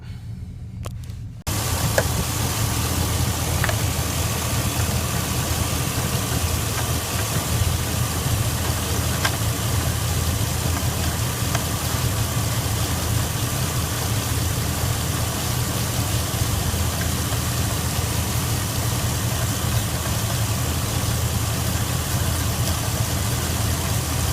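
A Chevy or GMC truck engine runs steadily after a fuel injector change, with a constant low idle hum held at the same level from start to finish, close by and with no talk.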